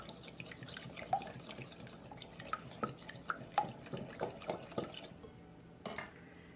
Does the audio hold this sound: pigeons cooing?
no